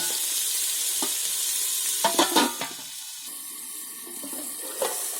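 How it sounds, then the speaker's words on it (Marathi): Onion and tomato cook in a covered pan with a steady, close sizzling hiss throughout, broken by a brief cluster of clinks and knocks near the middle and one more near the end. "आता टोमॅटो टाकून आहे ना थोडं मी झाकण मारून ठेवते, कारण टोमॅटो आहे ना ते शिजायला पाहिजे."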